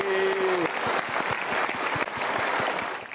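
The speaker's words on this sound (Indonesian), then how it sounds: "boleh berikan tepuk tangan sekali lagi" Studio audience applause at a Mario Teguh talk show, a dense, steady wash of clapping that swells in and holds loud throughout, with a brief tonal voice-like sound at the start.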